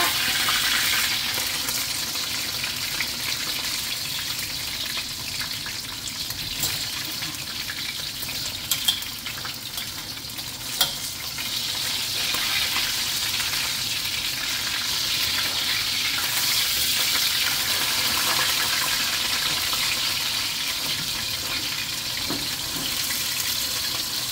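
Sole fish frying in a pan of hot oil, a steady soft sizzle and crackle running throughout, with a couple of faint clinks partway through and no voices.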